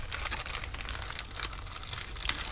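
A small plastic bag crinkles and rustles continuously at close range while RetroNet circuit boards are packed during a repair session, with no talking.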